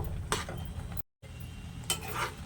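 A pan of mango halwa being stirred on the stove, with scraping and clinking from a spoon or spatula against the pan in a steady working rhythm, near and moderate, with a brief gap of silence partway through.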